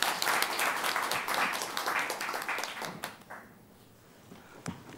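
Conference audience applauding after a paper presentation on a panel, a burst of many hands clapping that thins out and fades to near quiet, with a lone clap near the end.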